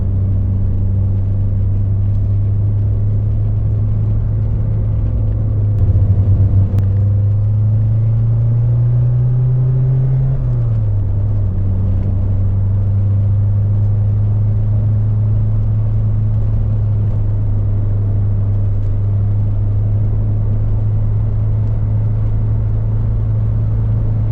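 A 1984 Porsche 944 Callaway Turbo engine rumbles loudly and continuously, its pitch climbing and then dropping as it is run at full throttle, with no talking.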